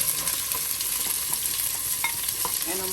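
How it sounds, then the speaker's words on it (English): Onions frying in oil in a pot for butter chicken, a steady bright sizzle with soft scraping stirs running throughout, close and continuous with no talking. "And So then you put oil, we have our onions."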